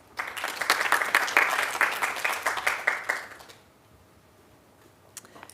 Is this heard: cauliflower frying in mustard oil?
no